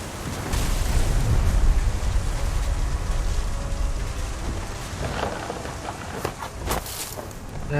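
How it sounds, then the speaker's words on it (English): Heavy rain pours and deep thunder rumbles loudly through a storm in the video game What Remains of Edith Finch, with the rumble swelling early and sharper crackles and drips following later. "The thunder sounded much too close and full of angry power."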